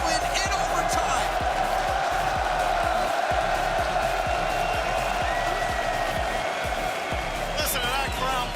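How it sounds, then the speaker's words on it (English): A large crowd at the Rocket League World Championship 2025 playoffs roars and cheers continuously after an overtime game win, loud and sustained, with a dense wash of voices and a few whoops rising above the din. "Listen to that crowd pop off for Wildcard, getting their first game win."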